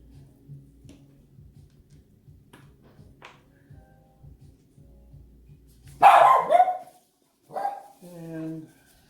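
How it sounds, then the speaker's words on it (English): A small dog barks in a short burst of a few sharp yaps, fairly close, with quieter yips following after a pause, over a faint low background hum from an outdoor backyard cooking setting. "my little dog. Can be very annoying sometimes. He seems to bark at everything."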